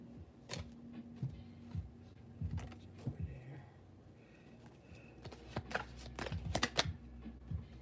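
Tarot cards being shuffled by hand, soft riffling bursts and taps in uneven clusters, fairly quiet and close, with a low background hum.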